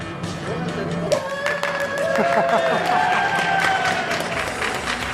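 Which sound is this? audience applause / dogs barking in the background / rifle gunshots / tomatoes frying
audience applause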